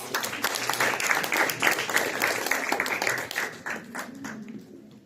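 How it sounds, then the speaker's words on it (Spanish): Hearty clapping from a congress audience fills the room for several seconds, many hands beating in a thick, even wash that gradually thins and fades out near the close, with some indistinct chatter mixed in. "Un fuerte aplauso."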